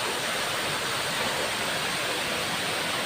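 Brahmadev waterfall at Donivade rushes as a loud, steady broadband roar of heavy water flow, continuous and close throughout with no voices.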